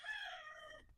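A native country chicken (nati koli) gives one loud, close, drawn-out call lasting nearly a second, fading at the end, with no talking.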